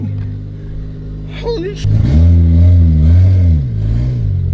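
A car with weak power steering starts up and drives outside, its engine revving and rising and falling in pitch up close, while a man exclaims briefly.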